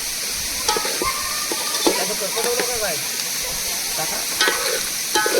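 Chicken sizzling in a hot pan at a waterfall picnic, with occasional scraping stirs, a steady frying hiss throughout and a few faint tones in the background.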